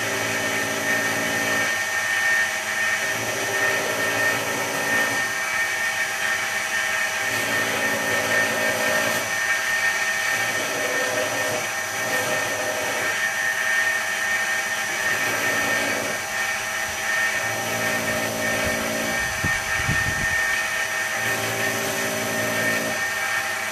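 A belt grinder cutting a hollow grind into a knife blade before heat treatment, with a constant whine and a rhythmic series of grinding passes, each lasting a couple of seconds with short pauses between them.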